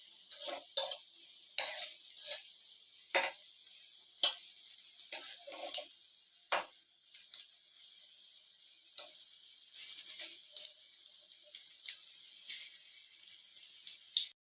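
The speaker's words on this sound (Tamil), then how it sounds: "எண்ணெய் காஞ்சிருக்கு, அதில் வடையெல்லாம் போட்டிருக்கேன்." Meal maker vadas frying in hot oil, giving intermittent light crackles and pops that come in irregular bursts over a quiet background, soft and close, with no speech.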